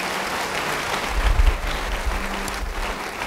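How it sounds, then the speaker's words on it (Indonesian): A church congregation breaks into loud, sustained applause, a dense wash of many hands clapping at once that swells briefly and stays steady to the end, with no clear voices. "Yang percaya beri tepuk tangan bagi Tuhan."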